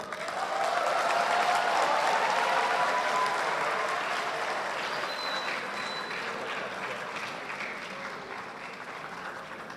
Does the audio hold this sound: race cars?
no